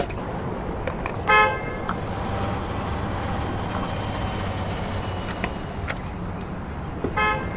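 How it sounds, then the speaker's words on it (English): Car horn beeps at a fuel station in American Truck Simulator, with a few short honks standing out over a steady loud engine rumble near the start and end. "Is someone beeping at me up even though I've stopped at a fuel station?"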